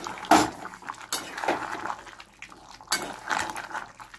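Chicken kasha being stirred in a pan after garam masala is added, several scraping and clinking strokes of a spoon against metal in short bursts, with wet sizzling between them and no talk.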